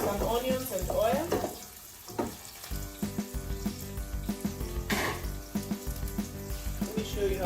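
Onions frying in oil in a pan for fish stew, a faint crackling sizzle with clinks and stirring scrapes, close and fairly quiet throughout.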